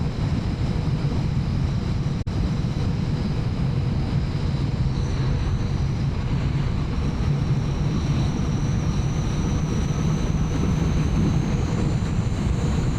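A Honda CB650R motorcycle on a misty early-morning commute, a continuous low engine drone blended with heavy wind rush, steady throughout with one brief click.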